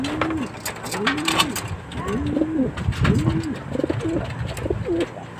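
Pigeon hen cooing in repeated soft, rolling coos at close range, with bird noise and faint background sounds mixed in.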